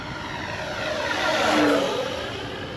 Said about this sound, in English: Let's do a full throttle pass. Fairly low, not super low.